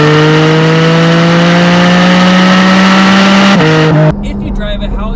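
A Porsche 718 GT4 sports car engine holds a steady loud high rev with a droning tone, then drops sharply near the end and settles to a lower idle-like rumble.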